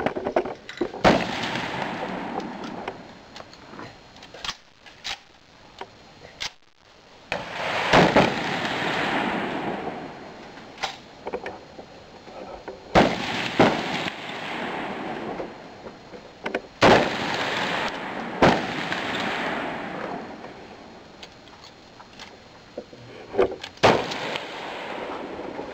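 M1 Garand rifles firing at a CMP match on an outdoor range, with many sharp shots, some near and loud, others farther off, cracking irregularly over a steady background wash.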